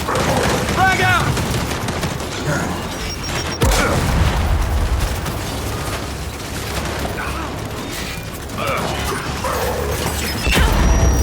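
A frag grenade blast in the Gears 5 shooter game, a loud boom rising out of dense gunfire and combat noise, with voices calling out over the action.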